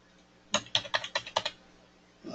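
A password is typed on a computer keyboard as a quick burst of about seven crisp, close keystrokes in a row, with quiet before and after.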